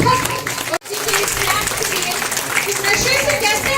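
An audience at a public event applauds loudly with dense, continuous clapping and crowd noise that fills the whole stretch, briefly dipping once near the start.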